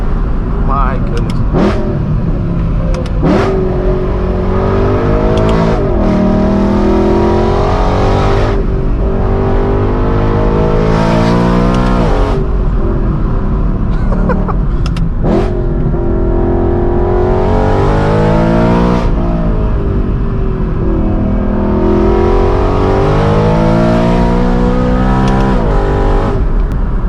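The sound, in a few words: straight piped BMW M3 E92 Gintani tuned V8 exhaust revving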